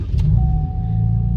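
A 2013-2019 Chevrolet Camaro runs at a steady, loud low idle close by, with a faint thin whine joining partway through.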